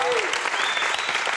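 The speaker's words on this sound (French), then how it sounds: "je vous demande d'applaudir le courage de l'invité" A studio audience claps steadily at a French TV comedy show, dense applause filling the whole moment at a fairly loud level, with faint voices mixed into the crowd.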